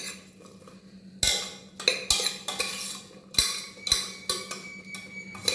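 Raw jackfruit pieces are mixed with turmeric powder and salt, producing a close, busy run of clattering scrapes and clinks in an uneven rhythm, each stroke loud and abrupt, with no voices.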